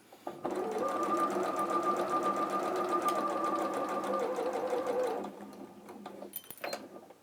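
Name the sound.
sewing machine stitching fabric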